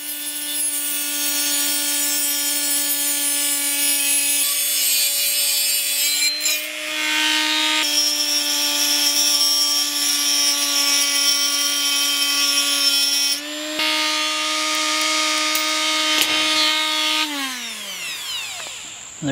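Thin non-reinforced abrasive cutoff wheel grinding through a piece of steel saw blade for a chuck backplate washer: a continuous high, whining screech with steady tonal harmonics, close and loud, briefly dipping as the wheel bites, then winding down at the end.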